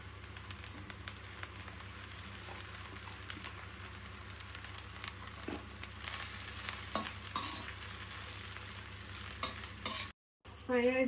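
Rice frying with masalas and fried vegetables for street-style egg fried rice, a steady close sizzle with stirring and scraping throughout, a brief cut near the end, and no talking.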